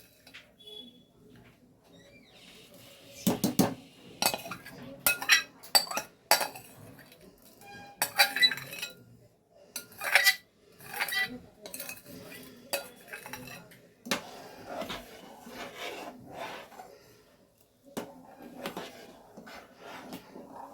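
Metal spoon stirring chhana into payesh in a cooking pot, giving scattered clinks and scrapes that come in bursts with quieter stretches between them, close by with no talking.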